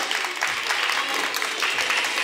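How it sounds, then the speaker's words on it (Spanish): An audience claps loudly and continuously for a child in a cosplay contest, a dense crowd applause with no speech over it. "Fuerte aplauso para Foxy."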